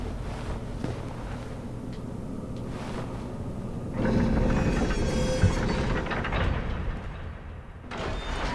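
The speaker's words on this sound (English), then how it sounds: "And there's a giant crank here" A giant crank turns in the Dark Souls game to move a stuck elevator in the New Londo Ruins, a loud sustained grinding rumble of heavy machinery that swells midway and then fades.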